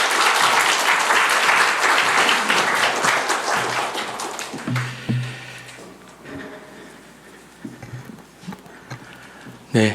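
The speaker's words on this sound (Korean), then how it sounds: "우리 나오실 때 큰 박수로 환영해 주시면 감사하겠습니다" A church congregation at a Friday night prayer meeting applauds to welcome the pastor: loud, dense clapping fills the room for several seconds, then thins into scattered claps and fades out.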